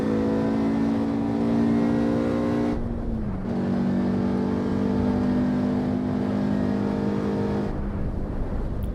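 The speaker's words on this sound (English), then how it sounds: "Let's listen to that engine." A car engine in the racing game Assetto Corsa Evo roars steadily at high revs at full throttle, dips briefly as if shifting gear, then climbs again in a continuous loud drone.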